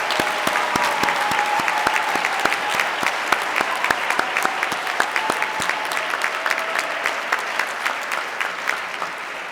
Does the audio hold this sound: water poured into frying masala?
no